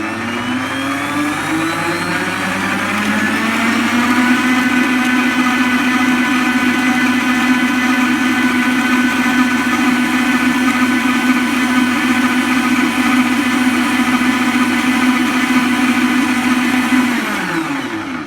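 Electric mixer whirring through cookie dough in a bowl, a loud steady motor drone that ramps up in pitch over the first few seconds, holds constant, then cuts off near the end.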